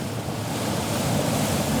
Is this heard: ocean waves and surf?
yes